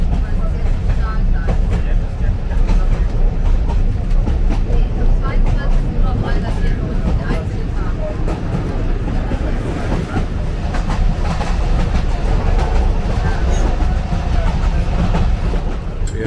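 Old-style train running down the middle of a street beside cars near Palma, a steady loud rumble with faint rail clatter throughout, continuous and close.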